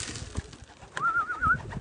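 Pigeons coo close to their keeper outdoors, with one drawn-out warbling coo rising out of soft rustling and background murmur.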